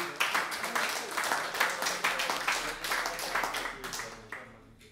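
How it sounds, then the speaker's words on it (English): Audience applause at a live Songs and Whispers music show: a dense, steady patter of many hands clapping close by, holding level for several seconds before thinning out at the end. "You should give yourselves a round of applause for that."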